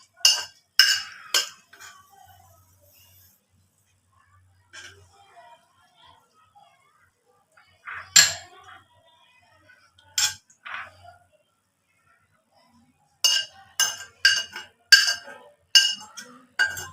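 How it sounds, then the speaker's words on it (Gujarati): Halwa made from dudhi (bottle gourd) spooned into a bowl: scattered light clinks and taps of a metal spoon against the dish, in short bursts separated by quiet pauses, close and fairly soft. "આવી રીતે આપણે એક બાઉલમાં હલવો કાઢી લઈશું."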